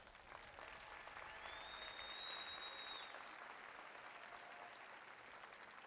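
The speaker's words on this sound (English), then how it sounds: "Let's give them all a big round of applause." Steady applause from a crowd fills the whole stretch, even and sustained, with a faint tone drifting through the middle.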